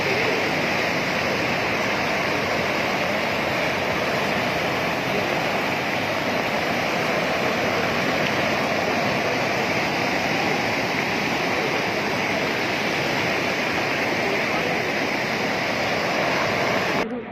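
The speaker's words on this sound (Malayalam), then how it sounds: "ബൈപ്പാസ് റോഡിലോട്ട് വെള്ളം ഒഴുകാൻ തുടങ്ങി." Floodwater rushing across a bypass road during heavy monsoon rains in Kerala, a loud, continuous broadband roar that stays steady and close throughout.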